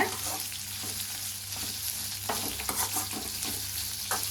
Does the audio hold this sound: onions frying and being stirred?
yes